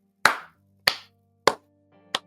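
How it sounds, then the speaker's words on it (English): Four separate hand claps, each sharp and crisp with a short tail, spaced about half a second apart and close to the listener, with a low steady hum underneath. "clapping my hands for Uncle Tom"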